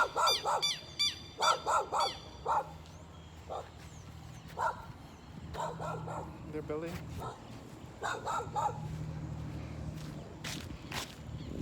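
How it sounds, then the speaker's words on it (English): A guard dog at a new housing development site in Liliendaal, East Coast Demerara, barks in repeated sharp bursts with some yips, fairly close, alternating with a voice and footsteps. "Their guard dog."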